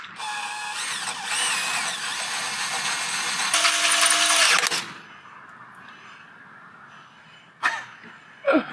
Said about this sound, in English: drill through the mounting holes